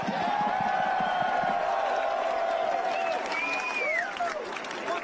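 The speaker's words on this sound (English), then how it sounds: "Let's give a round of applause." Crowd at a Los Angeles political rally applauding and cheering steadily for several seconds, a dense wash of clapping with a few whoops rising near the end and faint voices mixed in.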